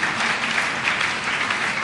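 A church congregation claps together in a steady, dense wash of applause at an evening service, even and sustained throughout with no voices standing out.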